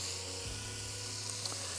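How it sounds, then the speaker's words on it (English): Diced fat sizzles in a hot pan over medium-high heat, a steady, even hiss close by with a few faint pops and no talking. "Oh, that's what I want to hear, that sizzle."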